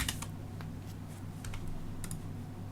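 Sparse, quiet key clicks from typing on a computer keyboard, a few light taps spaced irregularly over a steady low background hum.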